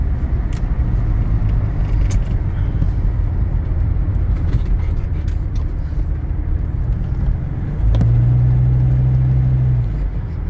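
An older Mercedes parts car drives along with a steady low engine rumble and road noise, the engine note rising and holding briefly louder near the end.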